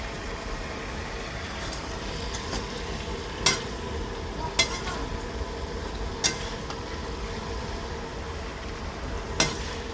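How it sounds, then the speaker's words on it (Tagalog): Chicken feet and tilapia being stirred while cooking, with a soft continuous sizzle underneath and four or five sharp utensil clacks against the pan spaced a second or two apart. "Halo-haloin natin"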